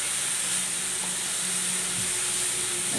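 Jackfruit pieces being stir-fried and tossed in a pan for a thoran, giving a steady, close sizzle and hiss with light stirring scrapes and no talk.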